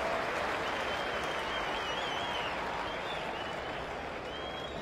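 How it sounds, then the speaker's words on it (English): Spectators at an Ashes cricket Test match applaud warmly, dense ground-wide clapping that carries evenly for about five seconds without talk over it. "Warmly applauded."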